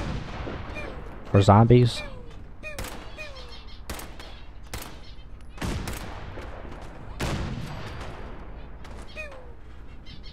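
Gunfire in heavily modded Fallout 4: a string of separate loud shots and bangs spaced through the stretch, with a voice speaking briefly near the start.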